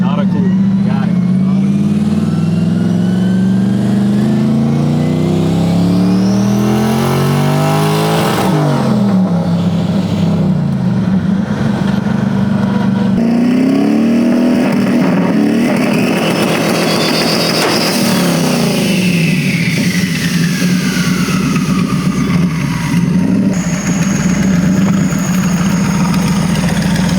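Ford Crown Vic engine, twincharged but with its supercharger removed, heard from inside the car as it idles and then revs hard, its steady drone climbing in pitch through two strong acceleration pulls.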